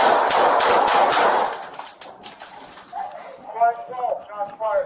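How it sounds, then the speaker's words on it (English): Gunfire during a Chicago police bodycam encounter, a rapid burst of loud close shots in the opening seconds, followed by quieter rustling and officers' voices. "Shots fired."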